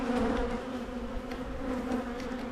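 Honeybees buzz densely and steadily around a hive during a split as the colony swarms, a close, continuous insect drone with no talk over it.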